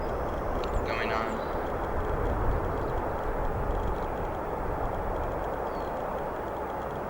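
Aircraft departing at O'Hare International Airport: a broad, distant jet roar that holds steady throughout, with a faint voice talking over it near the start.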